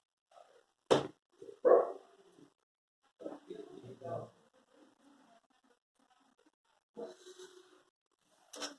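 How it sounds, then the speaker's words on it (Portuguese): A house dog barks in a few sharp, separate bursts, one or two at a time with pauses between, heard somewhat distant indoors while a person talks nearby. "o cachorro tá latindo"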